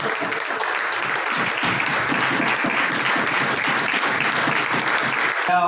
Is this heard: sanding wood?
no